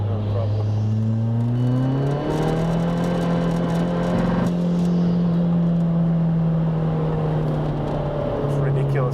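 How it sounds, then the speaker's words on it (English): Tuned Skoda Fabia vRS with a 1.9 TDI ASZ diesel engine, around 402 bhp, spinning its tyres in third gear. A loud, steady, rising engine drone mixes with tyre noise throughout, and a voice talks over it. "Trying 3rd gear, just roast tyres up, no problem."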